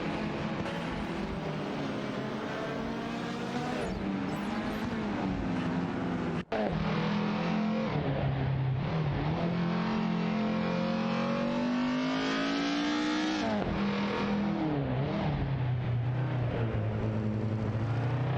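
Race cars in an AI-driven racing video game roar past one after another, loud engine tones rising and falling continuously with a brief cut near the middle.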